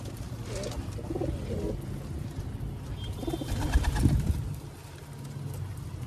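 Pigeons coo softly from inside their enclosure, a few low, rounded calls repeated over faint rustling and background noise.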